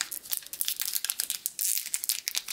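Foil wrapper of a Magic: The Gathering Time Spiral booster pack being torn and crinkled by hand, a close series of sharp crackles and rips in irregular bursts.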